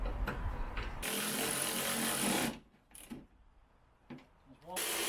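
Ratchet working suspension bolts on a Peugeot 107 during a lowering spring fit, a dense burst of rapid clicking for about a second and a half, then quieter intermittent clicks with a voice talking between them.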